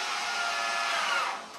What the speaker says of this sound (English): I'm going to use this Job Mate power drill